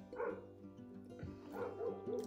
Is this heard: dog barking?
yes